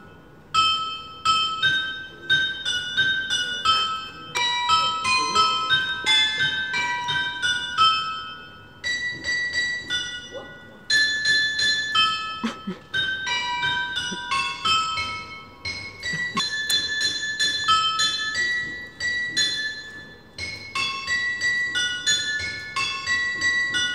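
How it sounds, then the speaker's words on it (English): Bright metallic chimes from a public clock in Geneva, Switzerland ring out in rapid, overlapping melodic runs, pausing briefly before starting again, clear and close. "Still, we heard the bell chime."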